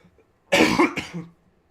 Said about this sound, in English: Sorry, I didn't get to my cough button quick enough there.